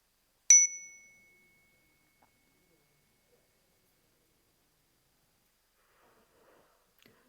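A single meditation bell is struck once near the start, giving a bright, clear tone that rings out and slowly decays into silence in a quiet room.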